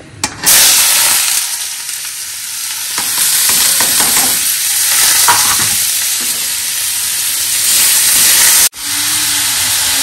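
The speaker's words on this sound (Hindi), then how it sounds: "देखो गाइस तेल गरम हो चुका है और अब हम इस पे डालेंगे प्याज" Onions dropped into hot oil in a home kitchen for a chicken dish, giving a loud, steady frying sizzle and hiss that starts abruptly and runs continuously, with stirring rustles and a brief break near the end.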